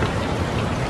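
Steady rain from an Unreal Engine 5 open-world rain effect, a dense, continuous broadband hiss of falling drops with no pauses, loud and close, heard alone.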